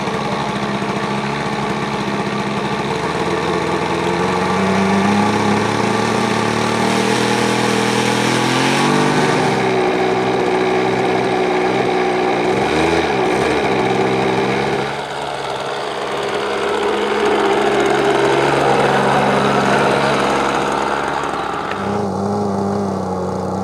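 An RC plane motor runs continuously and close, a steady loud whine and hum with smooth bearing tone, its pitch gliding up and down slightly mid-run before settling, with no talking over it.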